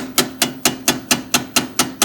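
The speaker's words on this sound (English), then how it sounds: "move those tabs away with a chisel and a hammer" A hammer strikes a chisel to bend muffler tabs on a Tecumseh engine from a Craftsman snow thrower, eight sharp metallic taps in a steady, even rhythm, close and clear.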